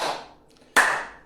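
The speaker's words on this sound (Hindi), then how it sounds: "तालियां बजाएं" A single sharp hand clap rings out close and loud during a clapping exercise for health, with a fading wash of an earlier clap just before it and no talk.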